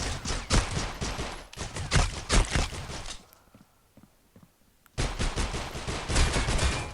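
Rapid bursts of gunfire in the mobile shooter Critical Ops, loud and close, with dense volleys for about three seconds, then a near-silent pause before another heavy burst of shots resumes.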